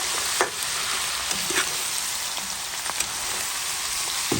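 Garlic fries in a pan for a beef and carrot dish, a steady, close, dense sizzle with occasional crackles and stirring scrapes, and no talking over it.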